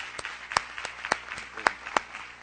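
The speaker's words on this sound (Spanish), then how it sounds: "un aplauso por favor, un aplauso." Scattered, sparse clapping from a lecture audience, a handful of separate sharp claps rather than full applause, fairly quiet and close.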